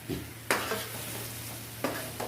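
Finely chopped garlic fries in a pan for pasta with a soft continuous sizzle, punctuated by a few sharp scrapes of a spoon stirring, under a low steady hum.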